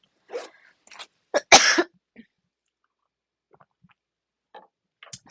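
A person coughs a few times from a tickle in the throat, short close bursts clustered in the middle with quiet gaps around them.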